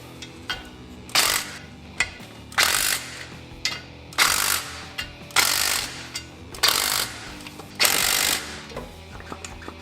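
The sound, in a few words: nut driver tightening bolts during Suzuki Samurai clutch replacement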